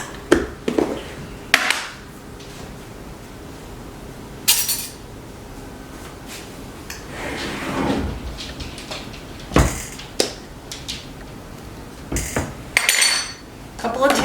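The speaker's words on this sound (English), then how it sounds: "So I'm just going to stir this all up." A spoon stirs ingredients and brown sugar in a bowl for rehydrated freeze-dried hamburgers, with irregular close clinks and scrapes against the dish separated by quiet gaps.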